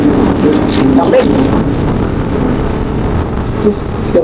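Wind roars steadily past during a fast thrill ride, a loud broadband rush with buffeting gusts, while voices shout and exclaim over it throughout.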